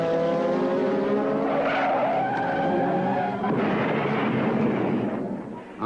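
A Formula 1 McLaren race car crashes at about 150 mph at the 1981 Italian Grand Prix, with loud tyre skidding, a roaring engine and a harsh burst of impact noise.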